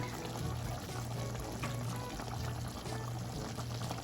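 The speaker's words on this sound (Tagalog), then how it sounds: "lalagyan ko din po ng suka" Vinegar poured into a sweet and sour sauce for pampano fish, a steady close liquid pour that runs without a break against kitchen background noise.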